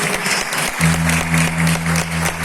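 Congregation at a Portuguese-language church communion service clapping for Jesus, a loud steady wash of hands mixed with a sustained low musical drone, voices faintly present beneath.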